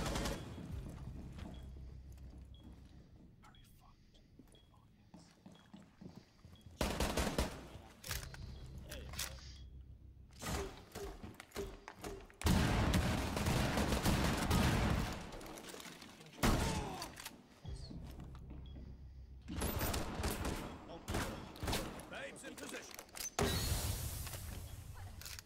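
Bursts of gunfire from a tactical shooter video game, loud broadband volleys separated by quieter stretches, with a player's voice occasionally heard between shots.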